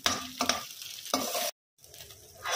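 Veg manchurian tossed with schezwan sauce in a pan, a few sharp scraping stir strokes over soft sizzling, broken by a brief silent gap before the stirring resumes.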